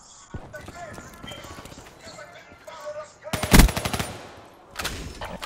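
M16 fire in Black Ops 3, a short loud burst of gunshots among softer in-game impacts and footsteps, with a second burst just after, under game noise.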